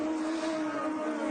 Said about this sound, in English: I hit the rev limiter there, I think.